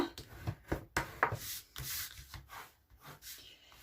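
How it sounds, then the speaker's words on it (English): Folded cardstock paper being burnished along its crease with a tool, heard as a quick series of close, soft rubbing and scraping strokes. "I'll just fold that in half and burnish that along there."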